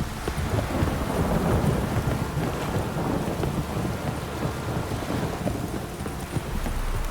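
Steady heavy rainfall in The Witcher 3 video game, with dense pattering and low rumbling, continuous and fairly loud throughout, with no voices.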